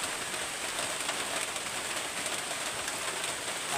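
Rain falls in a steady, even hiss with soft patter, fairly quiet and constant throughout, with no voices.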